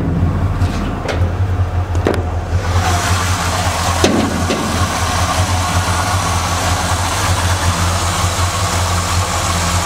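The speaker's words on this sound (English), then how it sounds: "Fires right up, sits there and idles all day long." A lifted 1972 GMC Suburban 2500 3/4-ton 4x4 idles steadily, its low engine rumble running evenly throughout, with a few clicks and knocks early on as the hood is opened.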